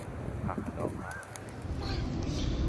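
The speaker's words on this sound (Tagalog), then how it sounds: "Sobrang daming kalapati dito," Many pigeons gathered in a city plaza in La Paz, Bolivia, beside a church, with soft cooing and fluttering mixed into steady outdoor crowd noise and distant chatter, continuous throughout.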